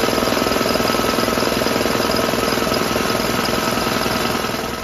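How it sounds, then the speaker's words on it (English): Air compressor running to charge up for a VEVOR triple air bag pneumatic car jack, a loud, rapid, steady pounding chug close by that eases slightly at the end. "Let's charge my air compressor up."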